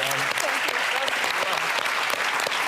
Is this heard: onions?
no